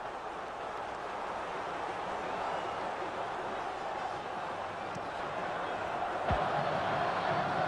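Flamengo football supporters in a stadium, a dense, sustained roar of distant crowd noise that holds steady throughout, with no clear individual voices.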